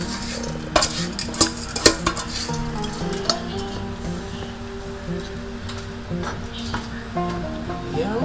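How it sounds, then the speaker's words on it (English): A spoon stirs chicken and noodles in a pot over steady sizzling, with repeated metallic clinks and scrapes against the pot and faint music or background sound underneath. "Spoon and go and stir him up."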